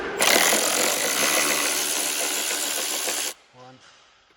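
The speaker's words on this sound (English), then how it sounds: "we're going to remove 1, 2, 3, 4 Torx bolts first" Dense, loud hissing whir of a power tool working the Torx bolts on an HGV truck during servicing, holding steady for about three seconds before cutting off, followed by a brief quieter mechanical rattle.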